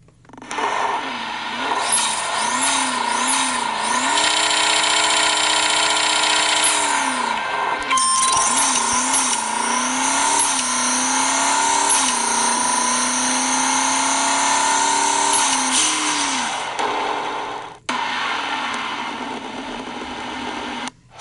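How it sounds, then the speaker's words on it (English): A Ford GT engine revs hard on a racetrack in a video game, a loud, whining engine note that climbs and shifts through repeated gear changes. It runs for about twenty seconds, with a brief cut near the end. "I hope the sound transfers into the video, but that is the Ford GTRLE"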